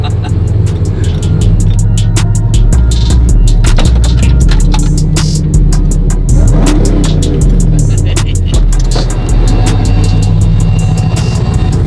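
A loud, rumbling modified Ram pickup truck with a Hellcat Redeye engine swap revs up and down close by, with crackling exhaust pops and rising and falling pitch.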